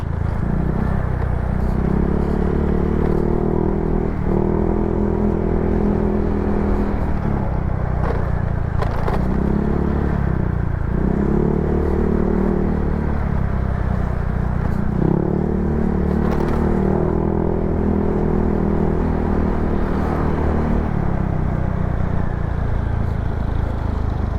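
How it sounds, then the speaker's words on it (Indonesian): A motorcycle with a loud F2 Racing aftermarket exhaust revs repeatedly, throaty bursts rising and falling over a steady engine rumble while riding. "Knalpot lokal yang keren sejagat raya."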